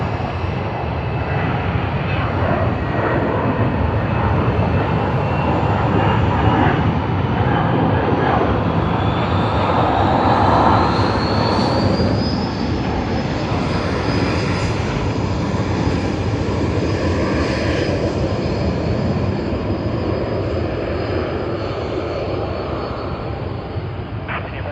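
A China Airlines airliner at Sydney Airport produces a steady, loud jet roar that holds for the whole stretch, with a rising whine partway through and a slow fade toward the end. Voices are faintly audible.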